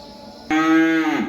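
A young Friesian-Jersey heifer lets out a single loud, drawn-out moo lasting under a second, close by after a quiet stretch on a farm.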